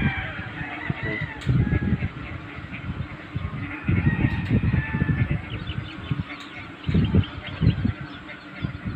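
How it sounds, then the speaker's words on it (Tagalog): Fighting roosters and chickens call and crow from several spots on a gamecock farm in San Isidro, Pampanga, some near, some farther off, over a low background hum. "Manok po mga pansabong."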